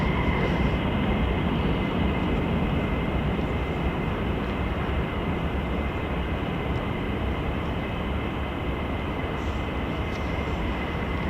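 An F-35 fighter jet crosses the runway at RAF Lakenheath, heard as a steady, unbroken jet roar that stays level throughout.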